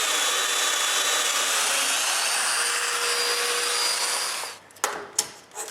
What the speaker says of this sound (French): Il faut que je marque l'emplacement des mortaises de domino et que je les perce